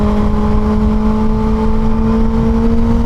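A Kawasaki Ninja ZX6R (636) motorcycle engine pulls in sixth gear at highway speed, a loud, steady droning hum with strong tonal whine and wind roar running continuously without pause.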